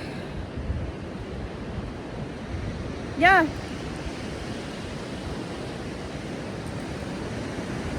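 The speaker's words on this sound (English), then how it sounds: "Just listening to the ocean." Steady broadband ocean surf washes evenly throughout, with a short spoken word breaking in briefly near the middle.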